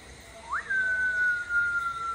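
A person whistles a single rising note that settles into a long steady tone, held for over a second and fading out, fairly close with quiet room noise behind.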